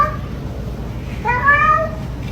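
A kitten gives a single clear, plaintive meow with a rising-then-falling whine, close and fairly loud over a quiet room hum.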